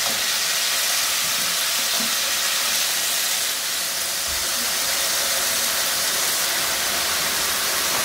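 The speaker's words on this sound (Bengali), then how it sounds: "আলু সিদ্ধ হতে বেশি সময় লাগে, সেই জন্য আলুটাকে আগে একটু ভেজে নিলাম।" Diced potatoes fry in hot oil in a wok, producing a loud, dense and unbroken hissing sizzle up close that holds steady for the whole stretch, with no voices.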